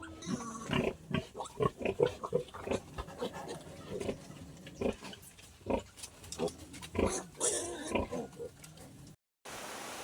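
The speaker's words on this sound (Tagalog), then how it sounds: "Andito na kami ngayon sa kulungan ng aming baboy." Pigs grunt and oink in a pen at night, with repeated short snorts and panting breaths close by, fairly quiet overall, and a voice speaks at times among them.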